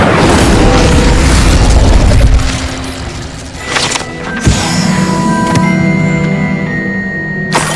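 The Incendio fire spell in the video game Hogwarts Legacy goes off with a loud, roaring burst lasting about two seconds. Quieter magical shimmer and a sharp pop follow.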